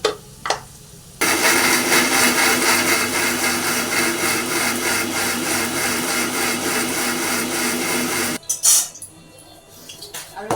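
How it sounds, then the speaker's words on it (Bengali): A mixer grinder whirs loudly and steadily for about seven seconds grinding a spice paste with black pepper, with brief clatter before it starts and after it stops. "এটা আমি মিক্সার গ্রাইন্ডারে পেস্ট করে নেবো"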